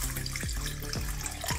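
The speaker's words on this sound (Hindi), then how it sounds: "अब इसको हम भिगाने जा रहे हैं, थोड़ा पानी डालेंगे, ज़्यादा नहीं डालना।" Water poured from a glass into a bowl of about 150 to 160 grams of sago pearls set to soak, a steady close splashing pour with a few gurgling surges and no talk.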